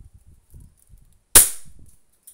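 A single sharp crack from an E&C airsoft Glock 19 pistol, loud and close, standing alone after faint low background murmurs.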